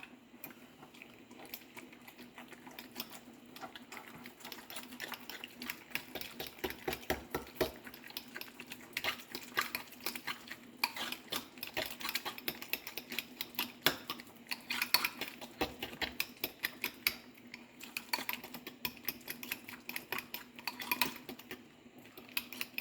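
A spoon stirring parsley into a lasagna cheese filling in a bowl, producing quick, repeated light clinks and scrapes in an irregular rhythm, close but quiet, with no voices.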